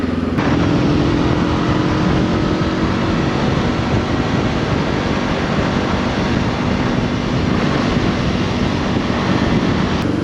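A Voge AC525X motorcycle rides on an unlit road at night, giving a loud, constant engine drone mixed with heavy rushing wind noise throughout, with no talk.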